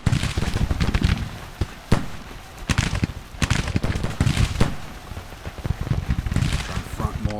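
Civil War battle gunfire in Grand Tactician: The Civil War, aimed at artillery batteries: irregular sharp cracks and pops of musketry and cannon, some loud and close, others scattered, over a rumbling din.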